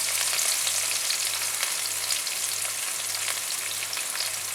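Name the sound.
garlic, ginger, green chillies and capsicum frying on high flame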